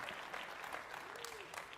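A studio audience at the Madden NFL 27 reveal event gives sustained, even applause, a dense wash of many clapping hands that stays at a low level throughout.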